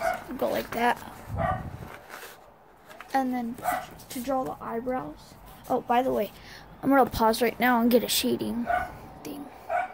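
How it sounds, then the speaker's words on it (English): A pet dog barks and yips indoors in short bursts, fairly faint in the background while a person talks almost continuously over it. "Sorry if you hear that, that's my dog."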